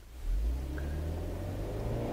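A Fiat 124 Spider MultiAir roadster, 140 hp Lusso Plus, accelerating at full throttle, its engine heard from inside the car as a steady, loud, droning rumble that holds without a break.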